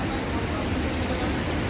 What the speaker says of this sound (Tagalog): first time umulan ng napakalakas dito at talagang naramdaman ko ang baha